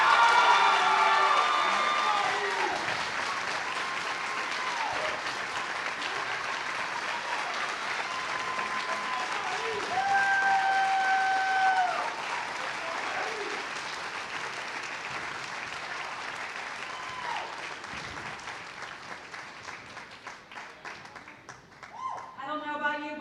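An audience at an amateur bowling stepladder final gives sustained applause with whoops and cheers for the 2017 Junior Team USA, loudest at first and slowly fading, while an announcer talks over it.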